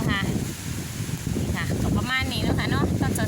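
Strong cold wind gusts across the microphone in a garden, a steady broadband rush throughout with faint rustling, while someone talks over it.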